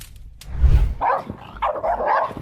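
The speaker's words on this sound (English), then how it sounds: "Aggressive dogs." Aggressive dogs bark in a few harsh bursts at close range, with a low thump just before the barking and no talk.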